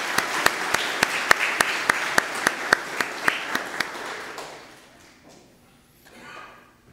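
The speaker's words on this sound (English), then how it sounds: "let us thank Ken with a round of applause" Applause from a church congregation at Sunday Mass, made of regular, evenly spaced claps for about four seconds that trail off into quiet room murmur.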